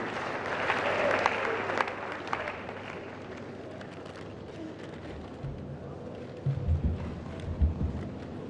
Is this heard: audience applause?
yes